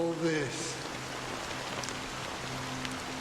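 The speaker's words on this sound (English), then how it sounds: "it's still raining" Rain falls steadily in the video game Honkai Star Rail as an even, hissing wash that fills the whole stretch, with a brief tonal sound at the start and no clear speech.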